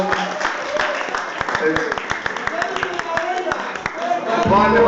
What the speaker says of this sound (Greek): Grand Theft Moko, λέω ένα χειροκρότημα